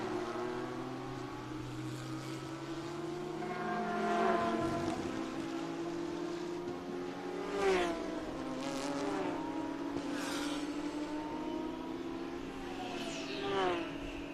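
A race car leaves pit road and rejoins the track during an IGT endurance race at VIR, a faint engine whine that rises and falls through several passes, some distant cars sweeping by under a broadcast mix.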